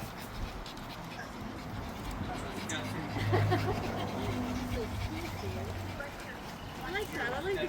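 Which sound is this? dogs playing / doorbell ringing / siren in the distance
dogs playing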